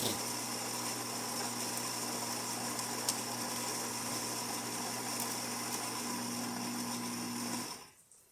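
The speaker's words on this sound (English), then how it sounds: "Let's pull a shot." A Gaggia Babila espresso machine pulling a shot: a steady, close pump drone with a constant buzzing hum that runs evenly for several seconds, then cuts off abruptly near the end.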